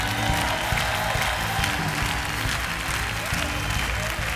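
A church congregation at a worship service applauds loudly and continuously, a dense wash of many hands clapping throughout, with faint voices mixed in.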